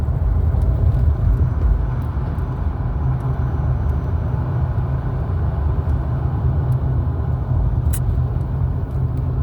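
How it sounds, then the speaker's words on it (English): Road traffic passes at night beneath a full moon, a steady broadband rumble of cars and heavier vehicles that holds constant throughout, with no clear individual pass-bys standing out. "Look at all that traffic."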